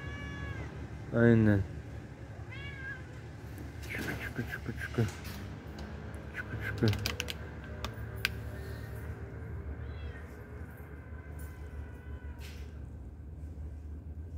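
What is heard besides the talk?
cat meowing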